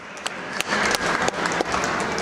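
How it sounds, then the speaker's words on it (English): Applause from spectators at a senior girls' provincial volleyball bronze medal game, steady clapping with a few sharper individual claps standing out. "And a great round of applause indeed."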